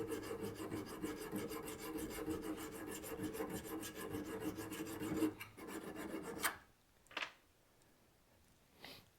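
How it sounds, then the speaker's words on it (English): A diamond file rasps steadily along the bevel of a dull hedge shear blade clamped in a vise, close and rhythmic strokes for about six seconds, then a few isolated scrapes and taps. "So you can see here that diamond file will actually sharpen this really well, and it actually puts a nice edge on it as well."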